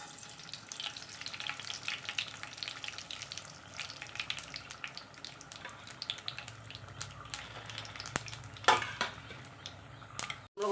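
Mustard seeds frying in coconut oil, a continuous soft crackle and hiss with scattered tiny pops, close but fairly quiet, ending in a few sharper clinks and no speech.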